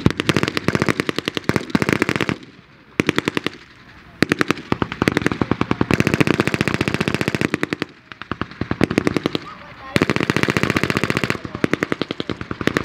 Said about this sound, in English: Heavy fire now being exchanged between the two forces.